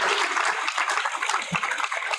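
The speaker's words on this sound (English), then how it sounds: "another round of applause" A crowd at a graduation ceremony applauds in a dense, steady patter of clapping that fills the hall without letting up.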